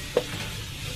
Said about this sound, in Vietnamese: Rồi tỏi phi đã vàng rồi